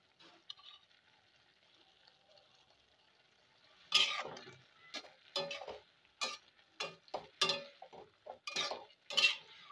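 Dry-roasted fennel powder is stirred into a vegetarian jute leaf curry: quiet pan hiss at first, then a run of sharp, close spoon scrapes and clinks against the pot at an irregular pace.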